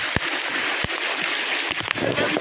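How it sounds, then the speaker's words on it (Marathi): Waterfall in heavy rain, a dense hiss of pouring water and splashing with a few sharp splatters, close and loud, with faint voices now and then. "धबधबा."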